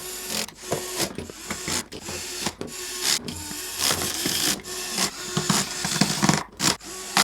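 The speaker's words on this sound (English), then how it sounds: "all we just need to do is screw in the screws on the bottom" Screws being driven into the plastic bottom of a Battat Pop-A-Doodle-Doo ball popper toy, close and fairly loud, with repeated rasping, creaking turns and short clicks in an uneven rhythm and no talk.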